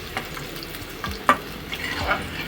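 Eggs and potatoes frying in a pan, a soft sizzle broken by a few sharp spatula scrapes and stirs, close and brief, with no talking.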